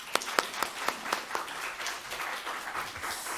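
Church congregation at a Sunday worship service applauding as the pastor comes forward, a few sharp claps that swell into steady, moderately distant applause from a crowd.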